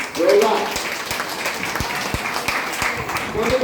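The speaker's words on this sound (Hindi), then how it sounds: "हम चाहेंगे सब मिलके जोरदार ताली बजाएं, जोरदार" A seminar audience breaks into applause in a hall, the first burst loud and dense, then thinning into scattered claps with some voices mixed in before the clapping picks up again at the end.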